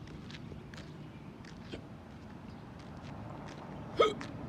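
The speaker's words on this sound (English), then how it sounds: "Oh, hiccups." A single sharp hiccup bursts out near the end, loud and close against a steady rumble of storm wind and rain during a severe storm in McLean County.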